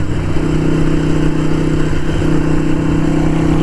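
A Harley-Davidson Sportster 883 Iron motorcycle engine runs loud and close, with a steady, throaty mid-range drone and a slight rise in revs, continuous for the whole stretch with no talk.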